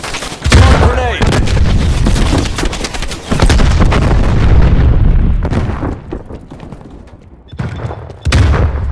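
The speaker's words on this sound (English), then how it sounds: "Throwing stun! Throwing grenade!" Grenade and gunfire explosions in the Call of Duty: Black Ops Cold War shooter game, a loud barrage of repeated booms and rattling shots with rumbling tails, pausing briefly before another heavy blast near the end.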